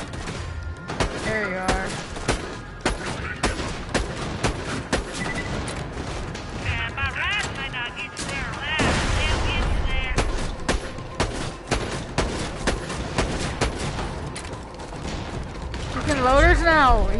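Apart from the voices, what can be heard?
gunfire in video game Borderlands 2 VR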